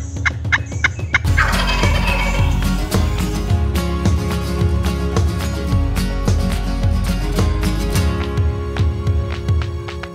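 A wild turkey tom gobbles repeatedly in the Midwest spring woods, loud and near, the calls coming in bursts over a steady outdoor background.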